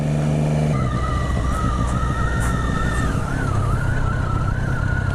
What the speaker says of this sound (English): Sightseeing bus.